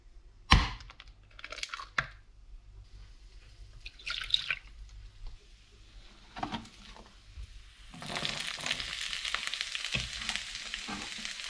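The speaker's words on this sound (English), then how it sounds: "So we're just going to sweat this down nicely now." Mushrooms, onions and chopped lobster go into a pan with clattering and scraping, and then a bright sizzle builds and holds steady near the end. No one speaks.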